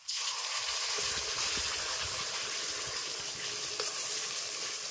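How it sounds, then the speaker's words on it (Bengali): Spice paste dropped into fried onions in a hot pan, bursting into a loud, bright sizzle that holds steady throughout with faint stirring underneath and no talk. "পেঁয়াজটা খুব সুন্দর ভালো ভাজা হয়ে গেছে। এর মধ্যে দিয়ে দেবো আগে থেকে পেস্ট করে রাখা মশলাটা।"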